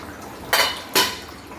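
A utensil clatters twice against a cooking pot of chicken gravy being stirred, two short bright scrapes about half a second apart over a quiet kitchen background.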